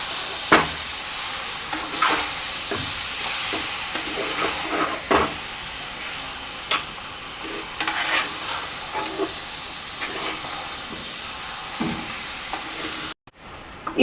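Beef for a Kerala-style roast being stirred and mixed in a clay pot, with repeated scraping strokes and soft sizzling. It runs steadily through the clip, close and moderately loud, with no talking.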